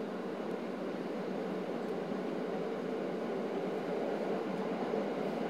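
A Tokyo Metro Ginza Line subway train running between stations, giving a steady, loud rumble of wheels and car noise with no breaks and no voices.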